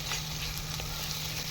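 Ginger, garlic and coriander-cumin pastes hit lightly fried onions in a hot pan, giving a steady, close, even sizzle with no talking over it.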